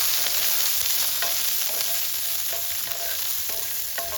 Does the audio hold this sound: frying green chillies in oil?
yes